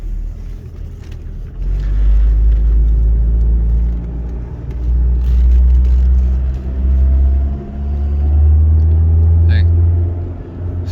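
A 2007 Ford Focus with a shifting fault, its engine revving loudly while stuck in first gear during a street test drive, rising and falling in long surges of deep rumbling drone heard from inside the car.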